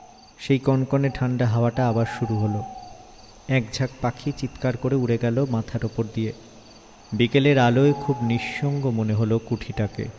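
Crickets chirp as a sound effect in a Bengali horror audio story: a steady, high, thin trill runs continuously beneath a narrator's voice.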